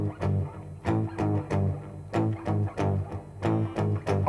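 Electric guitar riff of short, repeated plucked notes in a tight, choppy rhythm, with clear attacks and brief gaps between phrases; moderately loud and alone.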